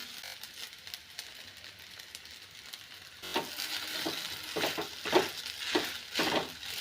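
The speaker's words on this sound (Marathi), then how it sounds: "आता यामध्ये ना आपल्याला शेंगदाण्याचा कूट टाकायचा आहे" Sago and crushed peanut powder stirred and roasted in a pan, quiet frying at first and then louder scraping strokes and a soft sizzle as the mixture is turned, close and without voices.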